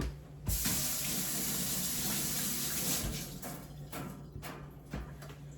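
Water runs steadily from a kitchen tap during rinsing, a continuous close splashing hiss that fluctuates slightly as the flow is disturbed, with no talking.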